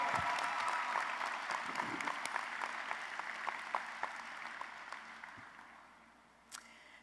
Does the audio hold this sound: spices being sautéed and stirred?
no